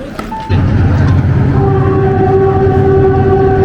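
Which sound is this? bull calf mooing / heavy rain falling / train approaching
train approaching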